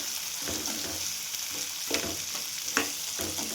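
Green peas roasting in a pan for vegetable upma give a continuous close sizzle, with occasional stirring clinks and scrapes and no voices.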